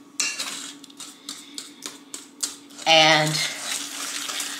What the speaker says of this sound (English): you want to whisk this together